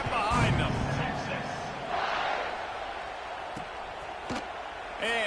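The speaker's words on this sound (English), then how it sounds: "They're set to kick it off, and this crowd now ready to get behind them." A stadium crowd roars at kickoff in the College Football 26 video game, a broad sustained crowd noise with swells and a few sharp hits, while a commentator talks over it.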